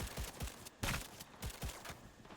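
Rapid bursts of gunfire from the video game Cyberpunk 2077 crack out in quick, uneven succession, a string of sharp shots fairly faint and close together.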